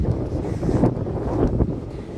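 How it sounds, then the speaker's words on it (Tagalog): Steady wind buffeting the microphone, a low rumbling roar that swells in a few gusts throughout, with no voices. "Mahangin na guys."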